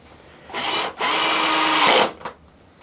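A power drill drives screws into model railway helix roadbed: a short burst, then a longer steady whirring run that cuts off, followed by a brief blip, close and loud.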